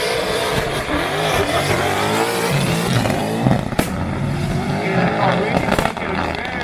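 A race car engine revs loudly and continuously, pitch climbing and falling through gear changes, with a commentator talking over it.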